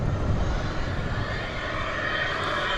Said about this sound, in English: That was Martinair Flight 648, a Cessna 208B Super Cargo Master.